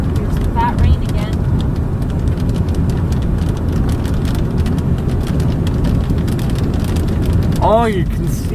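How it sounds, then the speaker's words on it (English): Heavy rain pouring during a thunderstorm in Carsland, Alberta, a dense, steady roar of falling drops close by, with brief voices speaking at the start and near the end. "Here's some fat rain again."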